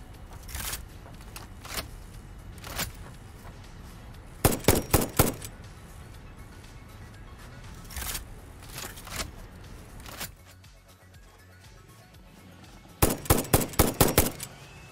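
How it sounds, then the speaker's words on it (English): Rifle firing in the video game Satisfactory, scattered single shots and tight rapid clusters of sharp cracks over a low game ambience, with a quieter gap near the end. "To use the rifle, equip it in your hand slot,"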